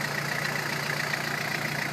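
A 2002 Toyota Hilux LN172R Space Cab with a 3-litre diesel and aftermarket TD04 turbo idles steadily, a close, even rumble with a constant whine on top and no voices.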